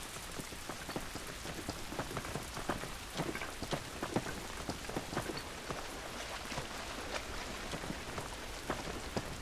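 Steady rain in The Last of Us on PS3 patters across a surface with scattered sharper drops, continuous and fairly close, with no voices.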